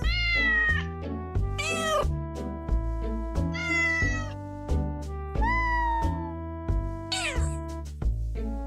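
A cat meows repeatedly in a Bad Cat video game trailer, drawn-out rising and falling cries over a steady musical backing, loud and close.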